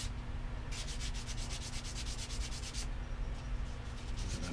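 Sandpaper rubbing on a light balsa-type hardwood propeller flexed by hand, a quiet rapid series of even back-and-forth strokes that pause and resume, with no talking.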